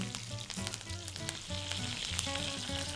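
Aubergine fries in hot oil with mustard seeds and curry leaves for South Indian vangi bhaat: a loud, close, continuous sizzle with crackling pops throughout, with no talk.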